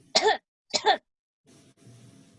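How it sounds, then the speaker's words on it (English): Two sharp, deliberate coughs close by, separated by a short pause, followed by faint low rustling. "coughs pointedly"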